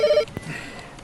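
A telephone gives a short electronic ringing burst, a quick pulsing trill lasting a fraction of a second, followed by a soft thump and quiet room tone.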